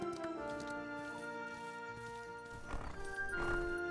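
Horse hooves clip-clop steadily in The Ranch of Rivershine video game while a horse whinnies near the end, over a soft sustained tonal music bed.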